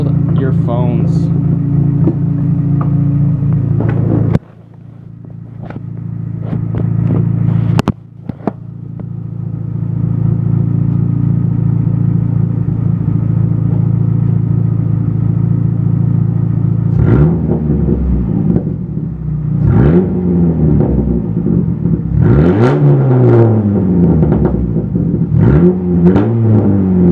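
A Dodge Neon's engine idles with a steady, loud rumble close by, then is revved in a series of rising and falling bursts toward the end.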